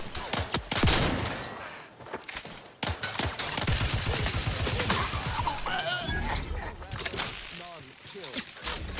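Bursts of gunfire aimed at the player in the sci-fi game The Outer Worlds 2, loud and dense for most of the stretch, mixed with game voices and effects.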